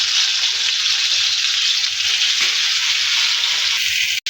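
Eggplant and tomatoes fry in a pan with a loud, continuous sizzle that holds steady throughout, close up and with no voices, cutting off abruptly at the very end.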